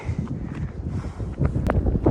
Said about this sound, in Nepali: डेन्जर हावा चलिरहेछ है गाइजहरू